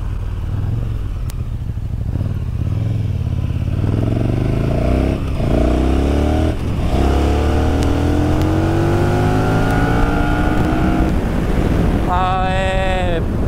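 A KTM 1290 Super Duke R engine on an open road, loud and continuous as it revs up through rising gears with a steady roar and wind, then a sharp high rev climb at the end.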